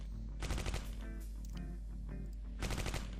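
A squad's gunfire in the WWII tactics game Close Combat Cross of Iron comes as two loud, close bursts of rapid automatic shots, separated by a stretch of scattered single cracks and sharp echoing reports.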